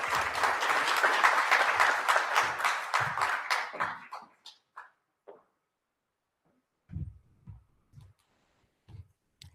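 A conference audience applauds after a speech at a business event. The clapping is loud and dense, then breaks off into a few isolated claps and taps that trail away.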